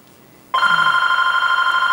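After half a second of near silence, a telephone starts ringing with a bright, steady electronic trill that continues loudly to the end, with no one speaking.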